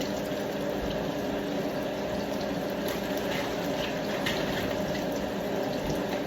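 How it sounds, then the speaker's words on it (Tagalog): Water heats to a boil in a pot or kettle for a warm morning drink, giving a steady, close rushing and bubbling hiss that holds an even level throughout, with no one speaking. "Pakulo ako ng tubig na mainit guys."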